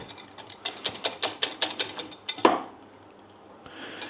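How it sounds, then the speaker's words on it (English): A whisk rapidly clinks against a bowl while beating flour into Yorkshire pudding batter, about a dozen quick rhythmic taps, then a sharper knock and quiet. "So give it a good old whisk, give it a good old mix."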